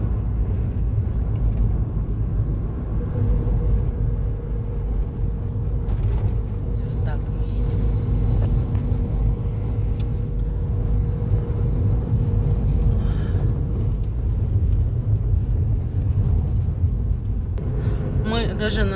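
Low rumbling road noise from a car driving over a shaky road in Georgia near Tskaltubo, a constant engine and tyre drone with someone talking over it.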